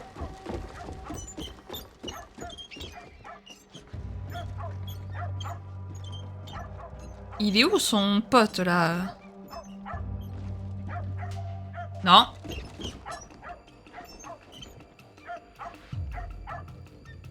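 A dog in the Assassin's Creed Shadows video game yips, barks and whimpers in short repeated bursts, one sharp loud cry standing out midway, over game sounds while someone talks in French.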